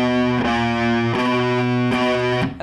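Distorted electric guitar plays a short piece of a riff, three chord hits with ringing sustain between them, close and alone.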